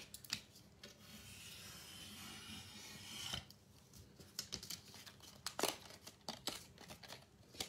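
Scissors snip paper for a scrapbook page, with quiet rasping cuts and faint rubbing, then a series of short, crisp snips close by.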